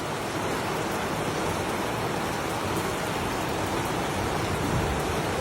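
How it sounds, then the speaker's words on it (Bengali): Rain falls steadily in a dense, even hiss with no breaks, close and fairly loud, its texture unchanged for the full length. "বৃষ্টি বৃষ্টি দেখা যায়"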